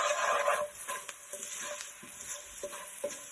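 Okra curry ingredients for a Sri Lankan dish, with salt added, being stirred together in a pan, giving soft scraping and shuffling over a faint sizzle, with a few light knocks of the spoon near the end.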